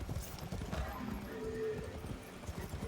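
Horse hooves clip-clopping in a video game, a quick rhythmic run of close hoofbeats under a low rumble, with a faint whinny partway through.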